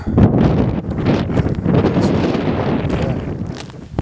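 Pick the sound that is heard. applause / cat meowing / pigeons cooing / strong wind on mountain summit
strong wind on mountain summit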